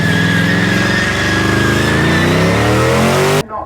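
A supercharged LS 6-litre wagon revs hard at a burnout event, a loud sustained engine roar with rising and falling pitch that cuts off abruptly near the end.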